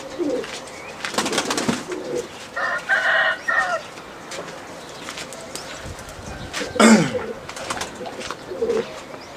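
Tumbler pigeons coo and a rooster crows briefly among other fowl noises, moderately close, with scattered rustling and faint voices.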